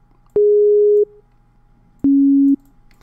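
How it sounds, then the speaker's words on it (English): A synthesized 808 bass sound made in FL Studio plays two clean, sustained tones, each about half a second to seven tenths of a second long, the second slightly lower than the first, with silence between them. "So we've got like a bass sound."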